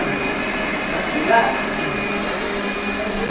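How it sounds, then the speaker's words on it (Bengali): A mixer grinder grinding spices in a temple kitchen gives a steady, fairly loud motor whir that runs throughout, with people talking nearby over it. "এখানে দেখো মিক্সিতে মশলা তৈরি হচ্ছে"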